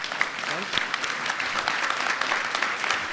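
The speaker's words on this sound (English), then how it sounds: "Perhaps a small round of applause for the panelists." An audience at a European border-management panel event applauds the panelists with dense, continuous clapping that fills the whole stretch without a break.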